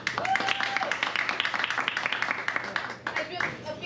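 Audience applause and clapping for improv performers at a comedy show, a dense steady patter of many hands close by with cheers and voices mixed in, dipping briefly near the end.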